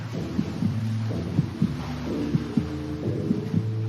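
A steady, muffled heartbeat thumps in a regular rhythm beneath a low, continuous underwater-like hum.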